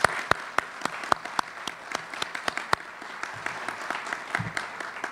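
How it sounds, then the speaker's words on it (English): A groundbreaking ceremony audience for a new college building gives a round of applause. The clapping is light and moderately close, with distinct individual claps in loose rhythm and a few low murmurs. "But let's give the board another round of applause for their confidence in this college."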